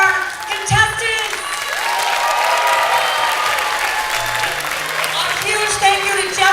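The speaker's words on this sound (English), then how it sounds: "can I have a big round of applause for our contestants?" Applause and cheering from an audience for contestants at a trivia bee, sustained and fairly close, with whoops and scattered voices mixed in.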